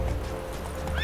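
Roach, the horse in the video game The Witcher 3: Wild Hunt, gives a brief, close neigh over quick clip-clop hoofbeats.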